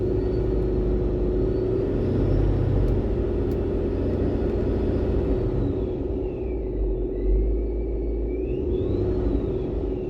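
A car engine runs at steady speed with a deep, continuous rumble and a faint rise in pitch partway through, close and loud. Higher whining tones drift in over the drone. No voices.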